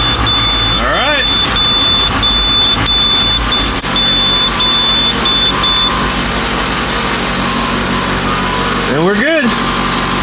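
Diesel engine idling steadily at about 1,000 RPM, a loud continuous rumble filling the whole stretch, with a high electronic tone beeping over it early on and someone speaking briefly.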